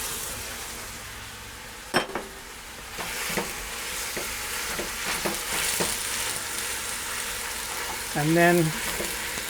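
Three pounds of ground lamb and pork browning in a pot for a Bolognese sauce, a steady sizzle with a few sharp stirring clanks and scrapes, close by, with a brief voice near the end.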